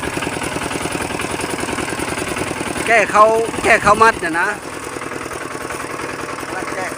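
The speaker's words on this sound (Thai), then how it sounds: "ตอนนี้ก็กำลังขับรถไถ" A farm tractor engine runs steadily at the rice harvest, a low rumbling drone that continues throughout while people talk over it in the middle.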